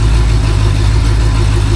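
A rebuilt Ford 289 V8 runs steadily on a homemade engine stand during initial break-in, a loud, constant low rumble with no pauses or voices.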